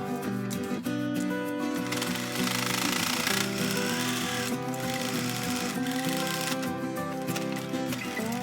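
Close and loud, a sewing machine runs almost without pause along the side seams of a small gingham fabric pouch, making a dense rattling whir with slight variations in rhythm.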